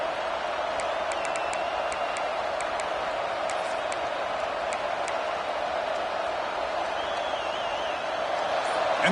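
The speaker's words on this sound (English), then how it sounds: "And this crowd coming to life here, trying to help the defense get a stop." A football stadium crowd roars steadily throughout, a dense continuous wall of cheering and noise rising to support the defense during a game against Penn State.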